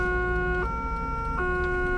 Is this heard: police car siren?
yes